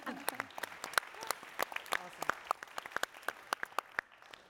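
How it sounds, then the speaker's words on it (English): Audience applause at a land stewardship conference session, a scattered round of individual claps, fairly sparse and close, lasting several seconds and thinning toward the end. "So, round of applause for that."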